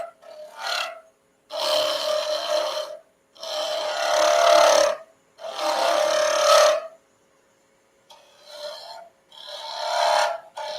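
A lathe tool chatters against a turning pen blank of banksia pod hybrid and stabilized wood, giving loud raspy scraping in four or five separate bursts split by short pauses, with no talking.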